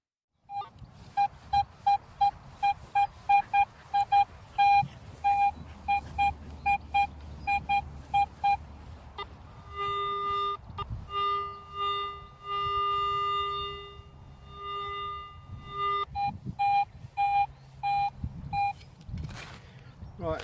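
A metal detector on a golf-course dig gives a string of sharp, repeated beeps in changing pitches, pulsing quickly and then holding steadier tones, loud and close against faint background rustle.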